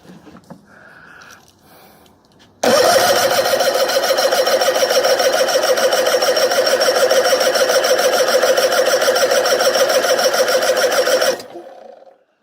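A Chrysler 85hp outboard motor cranks over during a compression test on its second cylinder, a loud, even, rapid chugging of the starter that runs about nine seconds, then cuts off.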